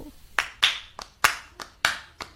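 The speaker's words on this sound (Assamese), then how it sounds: "বলকচোন একেলগে হাত চাপৰি বজাও" A small group claps hands together in a steady beat ahead of a Bihu song, with about seven sharp, distinct claps spaced evenly, close and fairly loud, with no talking.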